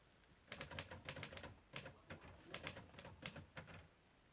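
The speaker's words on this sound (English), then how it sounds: "Typewriter." Typewriter keys struck in quick irregular bursts, sharp mechanical clacks arriving in clusters with brief pauses between runs, close and fairly quiet with no voices.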